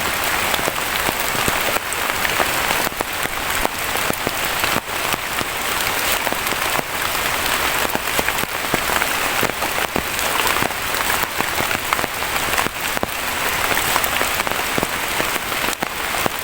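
Rain drums steadily on an umbrella in a forest, a dense close patter punctuated by sharper individual drops, continuing without pause.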